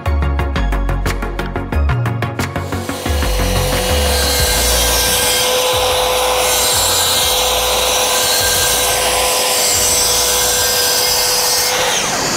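A Mafell MT55 18M cordless plunge saw cuts through wood with a loud steady whirring rasp. Rhythmic chattering at the start settles into one continuous close cut that runs to the end, with no talk.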